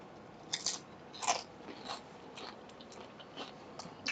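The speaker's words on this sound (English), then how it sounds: "Listen to that crunch." Crisp crunching bites into a deep fried trout dumpling, a few sharp close crackles with softer chewing crunches in between, loud against a quiet background and free of speech.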